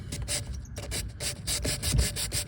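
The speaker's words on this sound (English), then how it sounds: "you wrap your sandpaper around it, you'll just hold it with your hand in place, and then you can get into these spots" Sandpaper rubbed by hand over the wooden corners of an antique buffet, giving a steady run of close, rhythmic scratchy strokes with no talking.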